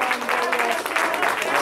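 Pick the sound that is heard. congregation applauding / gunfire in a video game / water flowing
congregation applauding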